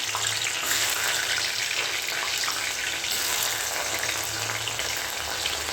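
Turnips sizzle and crackle steadily in hot oil, a loud, continuous frying hiss close by with no talking.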